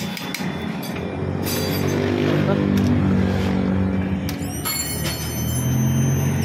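A stock Rouser RS200 Fi motorcycle, about a year old, starts and revs with a rising, rumbling engine note that holds steady, heard up close while people talk over it.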